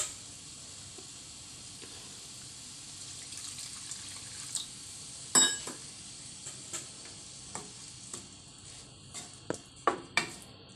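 Chicken pepper roast simmers in added water over low heat in a covered pan, giving a faint, steady hiss broken by scattered soft pops and ticks that grow more frequent toward the end.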